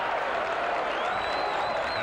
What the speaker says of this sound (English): Great round of applause for Vandegaard.